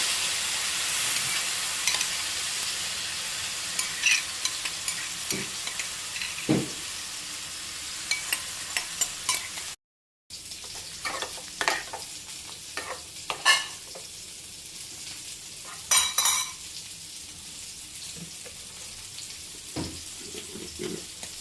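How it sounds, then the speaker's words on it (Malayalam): Cooked snake gourd pieces stir-fried in a pan, with scattered scrapes, clinks and soft sizzling from stirring, fairly quiet and close, with no voices. "നമ്മൾ വേവിച്ച് വെച്ചിരിക്കുന്ന പടവലങ്ങ കഷ്ണങ്ങൾ ഇതിലേക്ക് ഇട്ട് കൊടുക്കാം"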